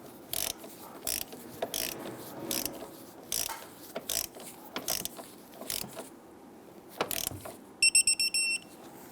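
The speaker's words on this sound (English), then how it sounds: "Install the relay bracket. And torque that down to 21 as well." A ratchet wrench tightens a relay bracket bolt on a 2011-2021 Jeep Grand Cherokee during front strut work: repeated short bursts of quick clicking separated by pauses, ending with a few rapid beeps.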